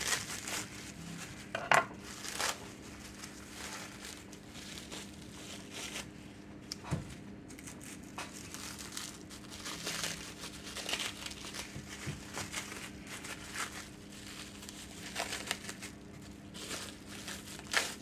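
Plastic wrap crinkles and rustles as a frozen homemade pie crust is unwrapped, faint close crackling in uneven bursts with occasional small knocks, steady low background, no talk.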